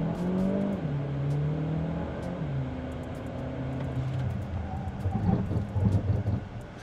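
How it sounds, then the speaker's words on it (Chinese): A Chery Tiggo 7 Pro in Sport Mode accelerates hard at full throttle, its engine note climbing and shifting in stepped tones under road rumble, heard from inside the cabin at moderate level. "现在我们要开始加速，加速到前面的那个地方有一个 marking"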